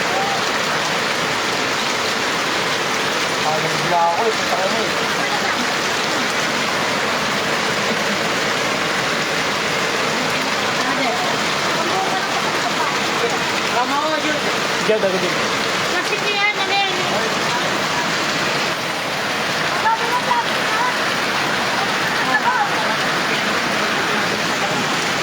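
Heavy rain during Typhoon Carina pours steadily alongside high floodwater, a dense constant hiss for the whole stretch, while several people talk over it.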